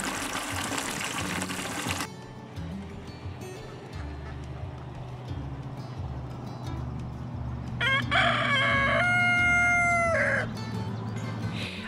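A rooster crows loudly and close by on a homestead, a long harmonic call in the latter part, while chickens cluck and fowl chatter continuously around it against steady background noise.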